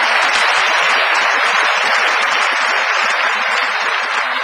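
Audience at a university lecture in Chungnam breaks into sustained, dense applause, loud and even from start to end, with many hands clapping together and no voice rising above it.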